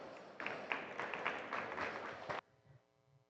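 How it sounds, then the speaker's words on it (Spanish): Audience applause at a hospitality and interior design talk in Colombia, a short dense burst of clapping that stops abruptly, leaving faint room noise. "Vamos a recibirlos con un fuerte aplauso."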